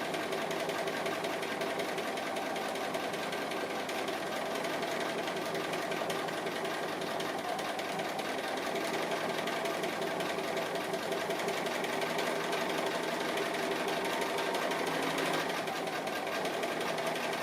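A sewing machine runs steadily through appliqué quilting, stitching a continuous line at an even pace, close and moderately quiet with no talk over it.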